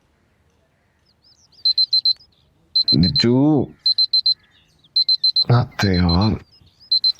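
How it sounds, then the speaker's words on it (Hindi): A bedside alarm clock rings in repeated bursts of rapid electronic beeping, fairly loud and close, with a voice calling out between and over the rings. "अलार्म बज रहे, तेरा उठ जा।"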